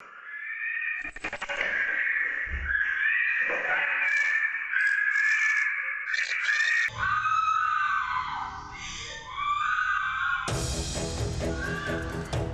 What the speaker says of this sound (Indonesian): Kamera CCTV merekam saat korban berteriak histeris meminta pertolongan